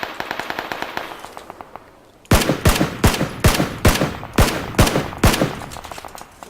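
Automatic gunfire in a battle royale squad video game: a fainter rapid rattle first, then about eight loud, sharp bursts in quick succession, close and dominant.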